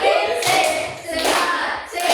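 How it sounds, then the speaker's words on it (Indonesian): Students in a classroom clap in rhythmic groups as a spirited cheer, loud, close bursts of hand claps separated by brief gaps, with voices mixed in. "3 kali tepuk semangat."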